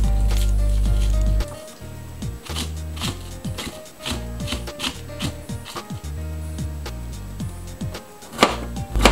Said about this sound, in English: Remove the seeds with a spoon.